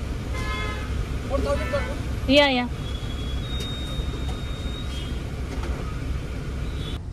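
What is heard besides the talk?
road traffic with car horns in India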